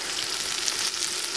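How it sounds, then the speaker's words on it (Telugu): Onions sizzle and fry steadily in hot oil for a goat head curry, a continuous close hiss with no speech. "ఇక ఉల్లిగడ్డ వేయాలి బగారా తర్వాత"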